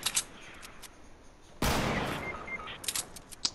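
A hunting rifle fires in a video game, one loud sharp shot with a lingering blast, amid scattered distant gunfire cracks before and after.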